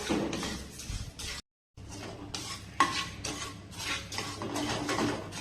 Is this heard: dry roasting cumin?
yes